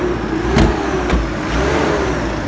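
A car engine revs through its exhaust on a road, a loud, close, sustained mechanical roar with a couple of sharper bursts, heard alone without talk.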